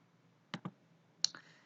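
Two pairs of crisp computer mouse clicks, close and fairly quiet, in a silent room while a new folder is created on the computer.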